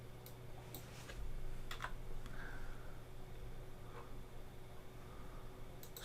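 Computer keyboard keys tapped in short scattered bursts of faint, close clicks over a low steady hum, quiet and sparse, no talking.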